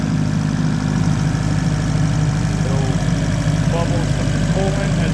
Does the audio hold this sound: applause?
no